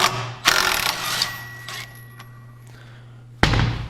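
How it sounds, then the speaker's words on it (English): A Polaris Pro RMK snowmobile's secondary clutch is pulled off with a power tool, giving sharp rattling impact bursts, a fading mechanical whir, then another loud burst at the end, with no speech. "Next step is popping off the secondary clutch"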